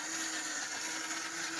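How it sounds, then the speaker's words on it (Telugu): A mixer grinder whirs steadily as it grinds a roasted homemade protein powder mix, a loud, continuous motor drone with a high-pitched whine held at an even level throughout, with no voices. "నేను ఇక్కడ మిక్సీ పడుతున్నాను"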